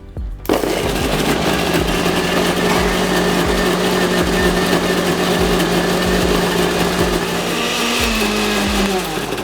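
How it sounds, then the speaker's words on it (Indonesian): An electric blender grinds a spice paste of garlic, sugar and kimchi sauce liquid, starting abruptly and whirring loudly and steadily with a rattling chop, its pitch dropping slightly near the end. "Ini karena di blender, jadi saus kimchi-nya yang cairannya ikut di blender."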